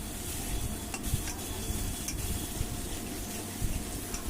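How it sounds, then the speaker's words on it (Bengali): Fried potatoes with ground cumin and coriander being stirred in a pan, a steady close sizzle with soft scraping of the spoon throughout, no talking. "ভাজা আলু দিয়ে মশলা দিয়ে ভালো করে আমি এটা কষিয়ে নিলাম"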